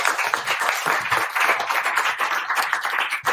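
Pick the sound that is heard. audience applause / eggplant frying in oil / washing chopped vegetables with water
audience applause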